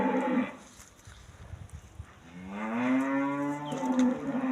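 A Russian breed cow lets out one long, close, rising moo in the middle, with soft rustling and shuffling of farm activity around it.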